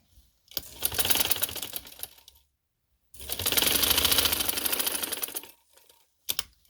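A sewing machine runs in two sustained bursts of rapid, even stitching, attaching lace to a curved fabric neckline, with a short pause between runs and a brief final whir at the end.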